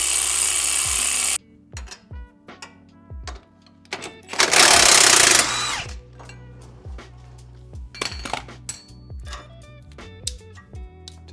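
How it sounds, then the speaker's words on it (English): Tools work to remove the steering stabilizer from a 2016 Jeep JK, using a 3/16 Allen key on the clamp and a 22mm socket and wrench: close metallic clinks and ratcheting clicks, with two bursts of loud hissing noise between them. "The way this particular steering stabilizer comes off is with a 3/16 Allen on the clamp and with a 22mm socket and wrench."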